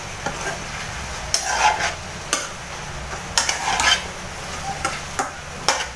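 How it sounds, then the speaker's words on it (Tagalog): Pork nilaga being stirred in a cooking pot, with a few separate scraping, clinking strokes of a utensil against the pot, each standing out over a quiet background hiss. "Haluin po natin ulit guys."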